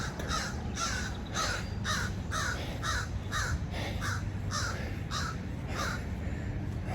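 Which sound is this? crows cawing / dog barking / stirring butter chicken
crows cawing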